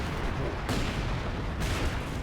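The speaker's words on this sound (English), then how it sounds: "A artillery barrage" Artillery barrage in the Company of Heroes 2 strategy game, a dense continuous roar of shelling with two heavier booming impacts about a second apart, loud and close throughout.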